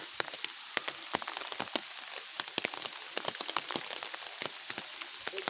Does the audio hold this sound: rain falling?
yes